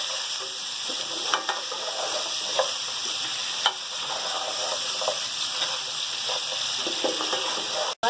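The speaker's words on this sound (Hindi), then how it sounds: "अदरक लहसुन और नमक के साथ हम थोड़ा सा भूनेंगे" Ginger, garlic and salt frying in a pan for mutton paya, a steady close sizzle with occasional scrapes and stirring knocks throughout, no talking.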